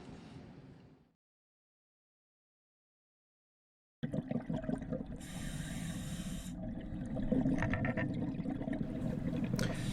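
Dive flashlight plunged into open water: a brief faint rustle, then a few seconds of silence, followed by steady close bubbling, sloshing and churning water with a burst of hiss partway through.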